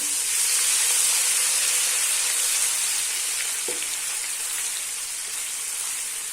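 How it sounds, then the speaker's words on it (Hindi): Ginger garlic paste fries with onions in a hot pan, giving a steady, bright sizzle that holds evenly throughout, close and fairly loud, with a faint clink partway through and no voices. "हम 1 मिनट के लिए फ्राई कर लेंगे।"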